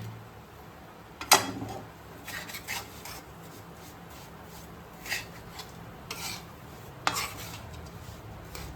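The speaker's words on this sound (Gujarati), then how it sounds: "હવે આમાં થોડુંક ખમણેલું ટોપરું ઉમેરી દઈશું. આ બધું મિક્સ કરી લઈશું." Grated coconut being stirred into a sukhadi mixture gives soft, continuous rubbing and scraping, broken by a few sharper scrapes or clinks against the pan.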